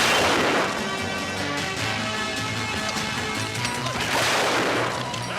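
Loud, dense bursts of rapid gunfire and booming blasts from a bandit attack in an action film scene fill the scene continuously, with heavy crashing impacts and no clear pauses.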